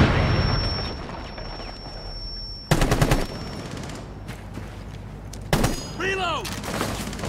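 A UMP-45 submachine gun in Rainbow Six Siege fires two short rapid bursts a few seconds apart over a continuous backdrop of in-game noise, with faint whistling tones in the background.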